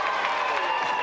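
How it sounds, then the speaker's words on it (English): Studio audience applauding for hurdler Colin Jackson on a TV games show, a steady wash of clapping and cheering filling the whole moment, with a presenter's voice running over it. "Round of applause for Colin"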